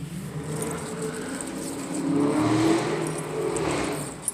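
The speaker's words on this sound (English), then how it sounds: "Somebody got a new Challenger and decided to challenge it." A Dodge Challenger engine revs in the distance, rising and falling in a low growl against outdoor background noise, with no talking.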